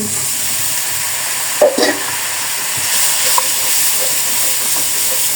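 A pan of onions, ginger-garlic paste and ground spices sizzles loudly with a steady hiss, a sharp burst of bubbling steam breaking out briefly as a little water hits the hot surface.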